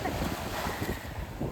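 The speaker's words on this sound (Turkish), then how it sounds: "Şimdi oraya dalga geliyor." Sea waves roll onto a windy shore beside a picnic spot, a continuous rushing wash of surf mixed with wind buffeting the microphone.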